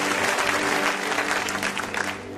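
A congregation at a French-language church sermon applauds and cheers, a dense, steady burst of clapping from a large crowd with a few voices mixed in.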